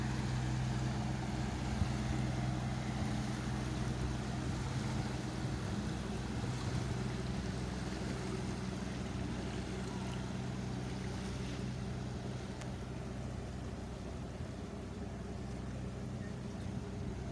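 A large fishing boat heads out to sea on the Gulf of Thailand at dusk, its engine a faint, steady low drone heard from another vessel, blended with wind and water noise.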